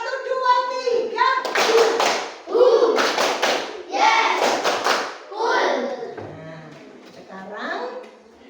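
A classroom of children doing a rhythm clapping game, groups of quick claps in counted patterns between chanted voices, fairly close and lively.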